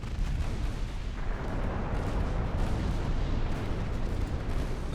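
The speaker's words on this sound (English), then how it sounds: "Battleship main guns, please focus on the enemy battleship." Battleship main guns firing in the naval video game Ultimate Admiral: Dreadnoughts, a loud, dense rolling roar of heavy booms that blends into one continuous low rumble.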